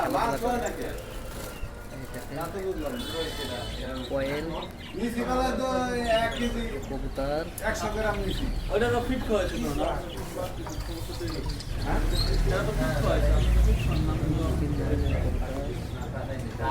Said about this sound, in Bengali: সামনে কবুতার